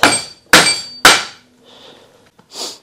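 Three sharp, loud hammer blows in steady succession drive an oak peg through a metal die for a timber-framed barn, each strike ringing briefly; quieter shuffling and a soft knock follow.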